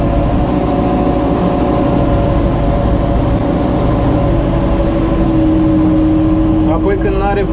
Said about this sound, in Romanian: Atunci când intră mai multă marfă, tractorul se turează.